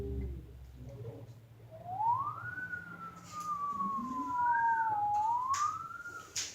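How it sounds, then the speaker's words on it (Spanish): A siren wails with a smooth rising then slowly falling tone, swooping up again near the end, moderately distant over low traffic rumble. "¿Nunca has escuchado una sirena?"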